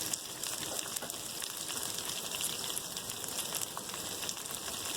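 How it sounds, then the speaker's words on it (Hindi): Okra (bhindi) frying in a pan, giving a soft, steady sizzle and crackle that carries on evenly throughout without any voices. "अब इसे 1-2 मिनट फ्राई होने देते हैं।"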